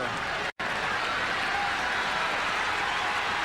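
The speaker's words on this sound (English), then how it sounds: "Crowd really stirring him on." Tennis spectators at a 1987 Dallas final applaud and cheer in a steady, dense roar of clapping that fills the whole moment, loud and continuous apart from a brief cut.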